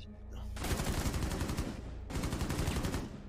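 Two long, close bursts of rapid automatic fire from a machine gun with a 90-round magazine in a shooter video game, loud and continuous with a brief break between them.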